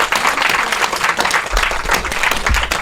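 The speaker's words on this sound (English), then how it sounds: "Massive round of applause for Broghan." A large audience gives a sustained, dense round of applause for Broghan, steady and loud throughout with no talk over it.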